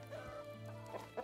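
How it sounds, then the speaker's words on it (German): A chicken-clucking emote in Medieval Dynasty gives a few soft, faint clucks over a low steady background hum. "Ich kann mich jetzt wie ein Huhn benehmen"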